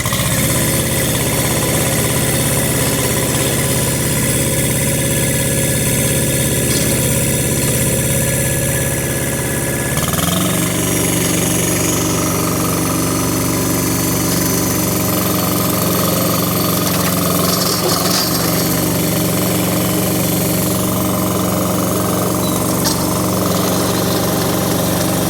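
Tractor with a rear tiller running in reverse to turn a compost pile, a loud continuous engine rumble with rattling vibration whose pitch drops and settles about ten seconds in as the load changes.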